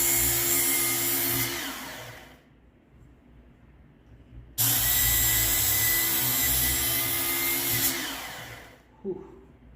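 A Work Sharp Knife and Tool sharpener grinds the burrs off a Reaper machete, its loud motor whine running in two long bursts with a quieter pause between them and a short knock near the end.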